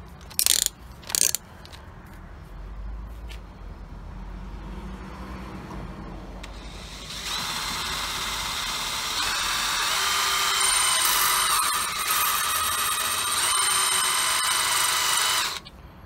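A hand drill with a sharpened carbide bit bores into hardened steel, a few brief grinding bursts at first, then a loud, continuous high-pitched whine and scrape holding steady through the second half.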